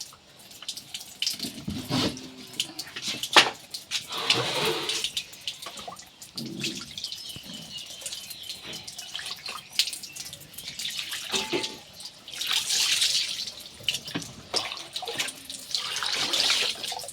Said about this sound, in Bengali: এইভাবে পানি দিয়ে দিব ভিতরে।